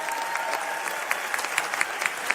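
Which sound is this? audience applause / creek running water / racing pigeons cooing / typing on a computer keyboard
audience applause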